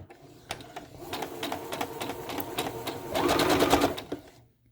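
A sewing machine stitches down the side of tulle at its longest stitch length, running in quick bursts with clicks and a louder, faster stretch near the end before it stops.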